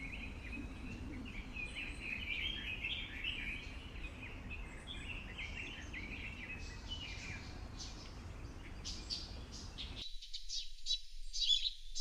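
Small garden birds, blackbirds among them, chirp and twitter in a steady busy chorus of short bright calls, fairly close against soft outdoor background noise.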